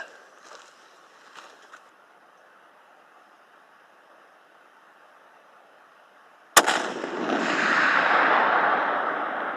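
A single sharp, loud rifle crack from a long-range precision rifle firing Send It 32 bullets at a rock face in the Badlands, after several quiet seconds and followed by a sustained rushing, rumbling noise that slowly fades.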